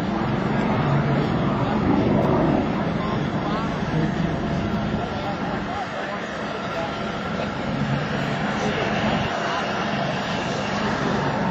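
An L-29 Delphin jet trainer roars steadily overhead at an airshow, a loud, continuous engine drone that swells and eases slightly as the plane rolls through its maneuvers.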